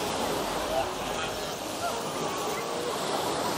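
Steady broadband rush of English Channel sea waves at Bournemouth beach in summer, continuous surf and wind noise filling the whole stretch with no break.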